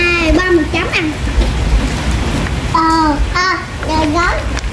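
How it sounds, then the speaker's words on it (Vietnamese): Rain falls steadily outdoors as a constant hiss under a child's chatter and other voices, with a few low thumps nearby. "Đây ngoài trời đang mưa nha cả nhà."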